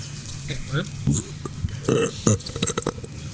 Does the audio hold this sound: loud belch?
yes